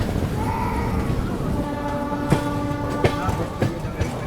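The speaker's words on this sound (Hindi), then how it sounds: "चलिए अपना अराइवल होता हुआ प्रयागराज शिवकी जंक्शन पे।" A train rolls into Prayagraj Chheoki Junction with a steady rumble, a few sharp wheel clanks over rail joints and faint tonal squeal, under low talk.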